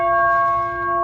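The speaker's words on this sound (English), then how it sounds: "when it hits the distortion, you'll hear a wow wow or wavering sound" Struck brass chime tube ringing with a steady bell-like tone and layered overtones that waver slightly, one close, sustained note decaying over about a second.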